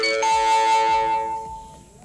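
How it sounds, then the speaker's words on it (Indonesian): A phone ringtone chimes loudly and alone, a bright electronic melody of repeated tones that rings on and slowly fades over about two seconds, interrupting a talk. "Maaf, ada gangguan dari ringtone."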